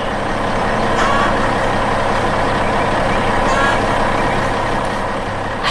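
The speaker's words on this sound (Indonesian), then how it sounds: "Truk itu melaju dengan tenang membawa penumpangnya" A truck rolls along at an even pace, its engine droning loud and close in a steady rumble, with faint beeping tones showing up now and then across the stretch.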